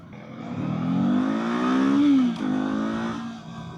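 A 2024 Kawasaki Eliminator motorcycle engine while riding: a close, smooth hum that climbs in revs, then drops away sharply as the bike decelerates and settles to a lower drone, with no talking.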